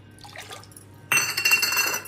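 Water poured from a bowl onto washed rice in a pressure cooker while cooking a home lunch thali, a sudden bright splashing pour starting midway and continuing steadily, close and fairly loud after a quiet start.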